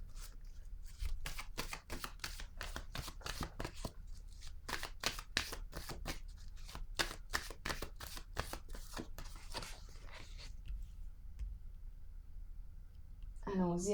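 Tarot cards shuffled by hand in a dense run of quick riffling flicks, close and crisp for most of the stretch, easing off near the end as a voice begins.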